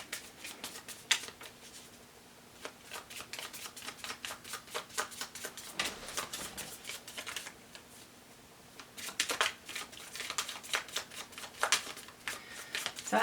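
A deck of tarot cards is shuffled by hand in a run of quick, crisp riffling clicks and flutters that come in bursts with brief pauses between them, close and fairly clear.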